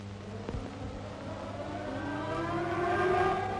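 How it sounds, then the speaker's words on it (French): Several civil defense sirens wail at the 1945 victory celebration after the German surrender was signed in Berlin, their tones rising and swelling and growing louder, heard from a distance in an old recording. "le cri des sirènes devient un chant"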